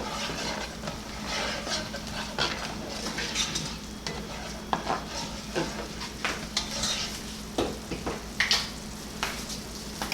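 Creamy spinach salmon sauce with cayenne bubbling in a pan while being stirred, a constant soft sizzle and simmer broken by irregular scraping and light clinks of a utensil against the pan, close up with no voices.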